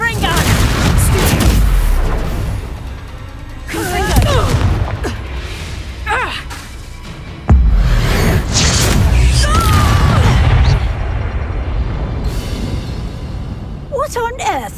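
Confringo blasting spells exploding in the video game Hogwarts Legacy, a series of loud booming blasts and crackling bursts spaced through the clip, with voices speaking between and over the explosions.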